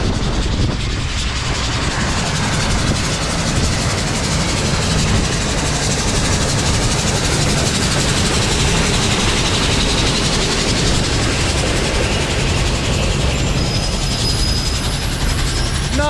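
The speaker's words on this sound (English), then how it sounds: "Not every day a train passes you while hiking." Loud, continuous rumble and roar of a train passing very close to a hiking trail in the Presidential Range, broadband and steady, with a faint high whine near the end.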